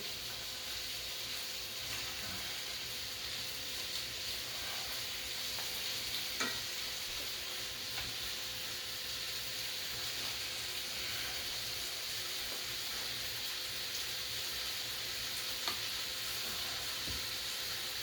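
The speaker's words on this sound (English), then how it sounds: "They are sizzling." Ribs sizzle steadily in a hot frying pan, a continuous crackling hiss with occasional small pops, no voices.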